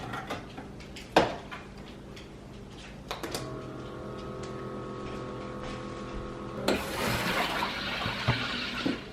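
A cocktail machine dispenses a fizzy pomegranate elderflower spritzer, giving a steady hum and hiss of liquid and CO2 at moderate level, ending in a louder gushing pour, with faint room noise and brief clicks.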